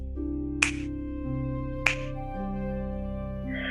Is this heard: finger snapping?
yes